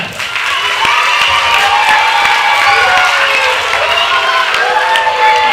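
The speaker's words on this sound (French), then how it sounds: "On applaudit la clarinette." An audience at a Peter and the Wolf performance claps and cheers loudly and steadily for several seconds, with a few children's shouts mixed into the applause.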